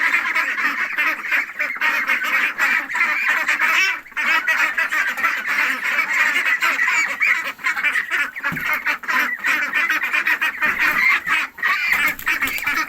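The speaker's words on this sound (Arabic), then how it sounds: "دلوقتي انا نزلت الطيور بتاعتي افطرهم ونشوف هنعمل ايه النهارده" Farm ducks and geese crowd out to be fed at morning feeding time, with dense, continuous quacking and honking from many birds close by, heard alone.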